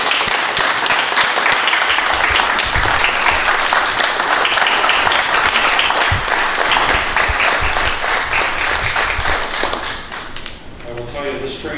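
Sustained, dense applause fills a Seneca Falls town board meeting room as attendees clap for town staff, steady and loud for about ten seconds before thinning out near the end, with a few voices in the background.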